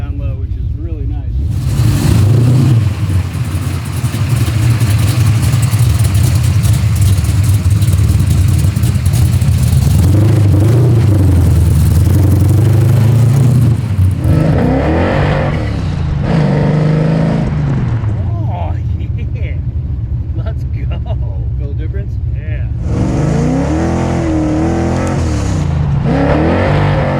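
A carburetor-tuned car on a test drive, its engine revving and accelerating loudly up through the rev range while people talk over the steady drone inside the cabin.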